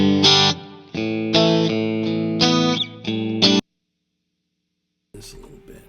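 Guitar played through a Strymon Big Sky reverb pedal, a few loud sustained chords and notes washed in reverb that stop abruptly, followed by a pause and then a short stretch of sound.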